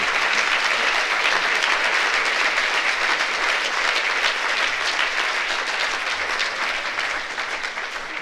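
A lecture hall audience applauds steadily to welcome economist Amartya Sen at the 2015 WIDER Annual Lecture, a loud, dense, sustained clapping that tapers slightly at the end.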